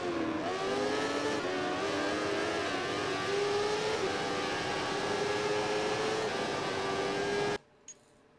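Simulated motorcycle engine in the MotoGP15 racing game, a continuous loud whining drone with shifting pitch as the rider revs and brakes, cutting off abruptly near the end with no speech.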